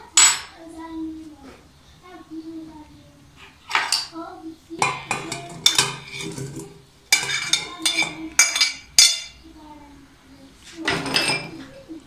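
Chopped plums for a Turkish molasses-sweetened compote are tipped into a large cooking pot. Irregular bursts of clattering and scraping metal come close up, with short pauses between them, and faint voices sound in the background.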